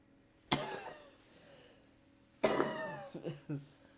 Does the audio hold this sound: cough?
yes